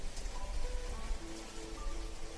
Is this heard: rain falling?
yes